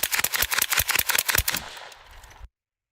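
Rifle shots fired at a target ring out in a rapid, evenly spaced string of about a dozen sharp cracks over the first second and a half, then a fading echoing tail that cuts off abruptly.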